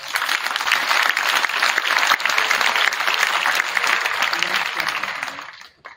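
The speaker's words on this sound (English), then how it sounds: "So let's give them a round of applause." Audience applause at a school signing day ceremony, dense sustained clapping that stays loud throughout before tapering off sharply at the very end.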